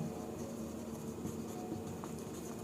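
A marker scratches and squeaks faintly across a board in short strokes, soft and close, with quiet room noise behind it.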